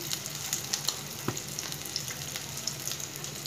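Hilsa fish frying in mustard oil, a steady close hiss of hot oil with scattered small pops and crackles over the whole stretch, moderately loud and uninterrupted by talk.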